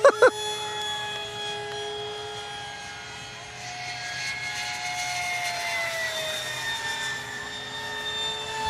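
An F-16 fighter jet makes a low pass overhead. A loud, sustained whining roar builds, then drops in pitch as the jet sweeps by, followed by a fading rumble, with no talk over it.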